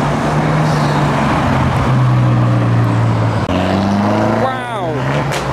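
A Nissan Skyline R33 tuner car drives past at a car meet, its engine droning steadily then rising in pitch as it accelerates away, loud and close amid traffic noise.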